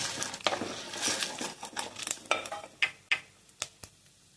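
Mustard seeds and lentils crackle and pop in hot oil, with sharp sporadic snaps over a faint sizzle, close up.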